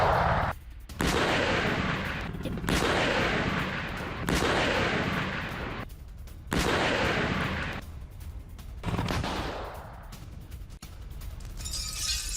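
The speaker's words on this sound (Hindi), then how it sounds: "वहीं जंगी मोर्चे पर रूस का तोपखाना होवित्जर से भीषण गोलाबारी हुई है।" Russian howitzer artillery fires in a heavy bombardment, a series of big, booming blasts each trailed by a long roar, the gaps between them cut short by the next shot.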